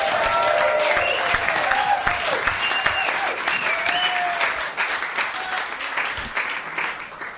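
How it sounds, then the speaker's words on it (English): Loud live studio audience applause with cheering and yelling, a dense sustained wash of clapping that tapers slightly toward the end, with voices shouting over it. "give yourselves a really loud round of applause"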